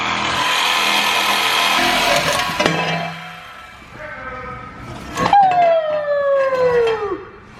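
A reciprocating saw cuts through the exhaust pipe of a 2014 Chevrolet Silverado truck, giving a loud, steady buzzing rasp that stops suddenly. A falling metallic whine and scrape follow as the cut frees.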